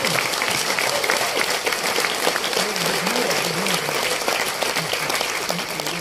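Sustained audience applause from a crowd at a business seminar in a hall, a dense steady clatter of clapping filling the whole stretch, with a voice talking faintly underneath.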